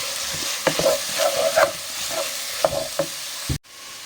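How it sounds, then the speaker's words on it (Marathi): Onion and green chilies frying with ginger garlic paste in a pan for chole, a steady close sizzle with several sharp scraping stirs of a spoon against the pan, ending abruptly. "आतां बरो भाजून घेवया आमी"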